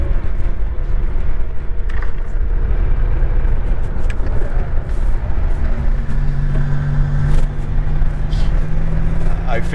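A turbo cabriolet drives past with a steady engine rumble and road noise, loud and close, while people talk over it.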